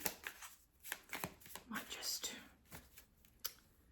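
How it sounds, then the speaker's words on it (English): A deck of Cosmic Insight Oracle cards shuffled by hand close up, with repeated crisp riffles and flicks in uneven bursts, while a soft whispering voice comes in between them. "I'm just going to take a couple of message cards from the Cosmic Insight Oracle cards"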